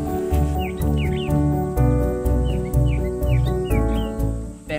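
Several birds call from dry forest of baobabs and acacias in south-western Angola, with repeated short tweets and rising whistles recurring every half second or so over a loud, steady musical backing.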